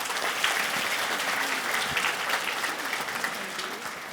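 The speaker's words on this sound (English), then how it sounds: "I'm clapping myself again, right?" Steady audience applause at a live medium's show in Perth, a fairly quiet but continuous wash of clapping from the crowd with no voices over it.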